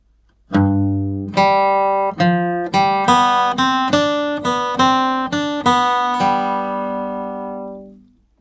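A flatpicked acoustic guitar melody of about ten clear single notes in bluegrass style, played evenly one after another with each note ringing into the next.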